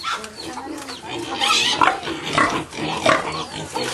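Pigs oink and grunt repeatedly on a pig farm in the Philippines, a dense, continuous chorus of close, loud snorts and squeals with some faint voices mixed in.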